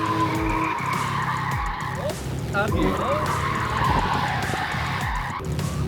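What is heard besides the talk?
car tires skidding while drifting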